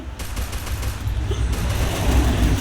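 Rapid game gunfire from a pistol in a shooter match, a steady rattle of shots over a low rumble, fairly loud and continuous with a faint voice in the background.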